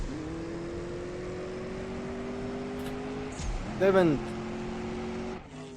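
Simulated BMW M8 Coupe race car engine in the mobile drag-racing game CSR2, a steady high revving drone with gear-shift pitch drops and a brief louder burst near the end, under a voice.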